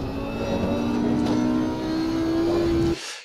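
Race car engine in Assetto Corsa Competizione at Oulton Park, a loud steady high-revving drone climbing in pitch as it accelerates, then cutting off abruptly near the end.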